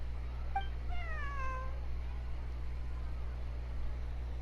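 A cat in a video game gives a couple of short meows, one a clear falling cry, over a steady low hum, then stays quiet.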